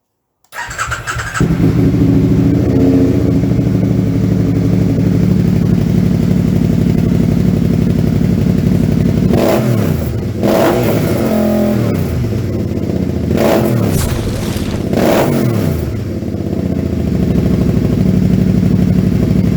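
A 2012 Can-Am Spyder RS-S three-wheeler fitted with a Two Brothers exhaust starts up and settles into a loud, steady, rumbling idle, then gets several sharp throttle blips before returning to idle.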